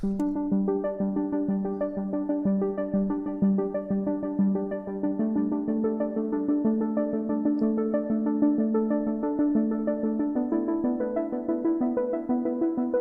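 A synthesizer arpeggio cycles steadily through bright, ringing notes, a continuous patterned run that shifts pitch midway, played alone with no voices.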